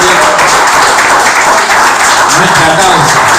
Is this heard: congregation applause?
yes